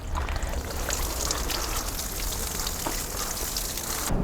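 Water sprays steadily onto a freshly turned compost pile, a continuous close hiss and patter like heavy rain with no break.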